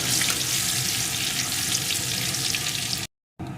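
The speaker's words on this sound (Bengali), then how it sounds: "এখন রসুনটাকে একটু ভেজে নেবো" Garlic cloves frying in hot oil with reddened tempering spices for a potato dum curry, a loud, dense, continuous sizzle that breaks off abruptly near the end before resuming.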